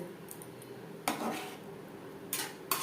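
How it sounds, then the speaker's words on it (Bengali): A spoon stirs garam masala powder into egg curry gravy in a pot, giving a few quiet, close clinks and scrapes against the metal with pauses between them. "আর দিয়ে দেব হাফ চামচ গরম মশলা পাউডার গ্রেভির সাথে বেশ ভালো করে মিক্সড করে দেব"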